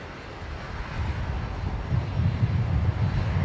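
An Alliance Fokker airliner lands at Brisbane Airport, giving a steady low engine rumble that builds in the second half, heard outdoors with some wind.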